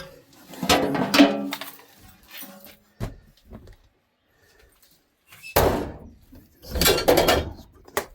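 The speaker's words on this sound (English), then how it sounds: "Let's put this door shut." An interior door is pushed shut during a vehicle interior removal, with a clatter and a sharp thud of the door closing, then a quiet pause and further knocks and rattles nearby, all close and fairly loud.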